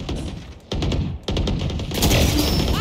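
Gunfire in the video game Valorant on the Bind map: rapid bursts of automatic shots crack out in quick clusters, close and loud, with brief gaps and a final dense volley layered over game effects, no voices.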